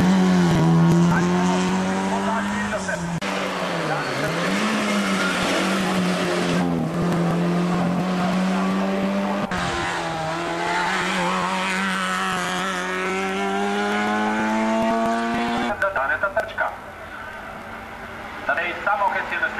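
A race car in the AK Ajdovščina hill climb race roars uphill, its engine loud and steady as it revs through gear changes, with a commentator talking over it throughout.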